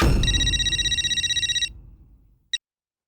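An old-style telephone bell rings in a rapid trill for about a second and a half and then stops, followed by a single short ring, clear and close in a quiet room.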